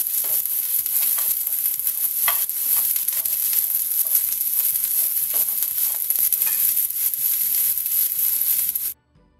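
Cashews frying with onion, garlic and ginger in a pan make a dense, close, continuous sizzle with crackling pops and occasional stirring scrapes, then cut off abruptly at the end; no voices.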